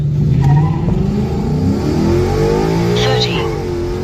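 A car engine fitted with new headers revs up, its tone rising steadily, close and loud, held around two thousand RPM, with a voice speaking over it.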